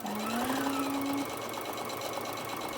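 A sewing machine stitching a boxed-bottom cosmetic bag: a steady mechanical whirr with a rising motor tone for just over a second, then it stops, leaving quiet room hum.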